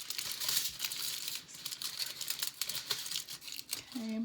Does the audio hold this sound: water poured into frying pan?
no